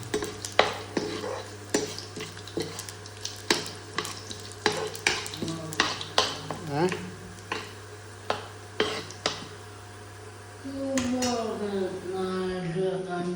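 Green chillies fry in bubbling ghee, a steady sizzle carrying sharp clicks of a ladle against the pan at an uneven pace, with a low hum running beneath; the stirring stops near the end and the frying swells louder.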